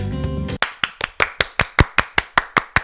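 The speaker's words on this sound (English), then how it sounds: "these claps were meant to spike in the audio wave so we could see where" Hand claps made as an audio sync marker, a sharp run of about twelve loud, evenly spaced claps close to the microphone, following a brief stretch of tonal sound at the start.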